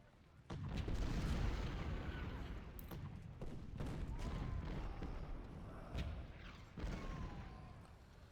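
Rolling musket volleys and booming cannon fire in the Ultimate General: Civil War battle at Chickamauga crackle steadily, with dense gunfire punctuated by several heavy blasts that stand out against the sustained battle din.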